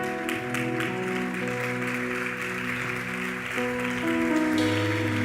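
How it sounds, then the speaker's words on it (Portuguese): A church congregation applauds steadily throughout, a dense wash of clapping over sustained keyboard or organ-like musical tones, swelling slightly near the end. "Pode sentar-se aplaudindo ao Senhor."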